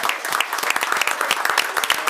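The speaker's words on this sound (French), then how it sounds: "avant une bonne main d'applaudissements" Applause breaks out at a municipal council meeting, a dense, lively patter of many hands clapping close by for about two seconds with no speech over it.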